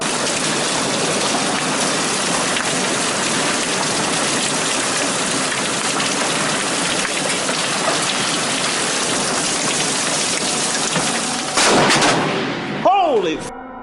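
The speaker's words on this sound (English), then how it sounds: "A bolt of lightning cracks across the brick wallway in front of him." Steady heavy rain pours throughout, then near the end a lightning bolt strikes with a sharp, loud crack followed by a brief rumbling aftermath.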